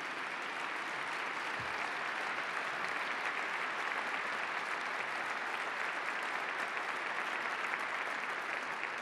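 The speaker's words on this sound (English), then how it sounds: "if we could get a round of applause for Ellen Stofan and the National Air and Space Museum" A large audience at a National Air and Space Museum event applauds in a dense, continuous wash of clapping that holds at an even, loud level throughout.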